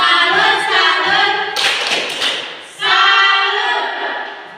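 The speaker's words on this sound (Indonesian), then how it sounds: "Oke, kita berikan tepuk tangan, tepuk salut." A group claps hands in applause at a church gathering, a brisk burst of dense clapping that swells in the middle, pauses briefly, then resumes and fades.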